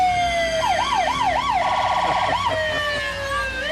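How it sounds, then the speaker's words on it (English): A fire department vehicle's siren is loud and close at a Christmas parade, its wailing tone sweeping up and down in a fast yelp before settling into a steady high note. "Hard to talk over that siren."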